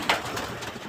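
Pigeons on a house rooftop give a soft, brief coo, faint and a little distant over low background noise.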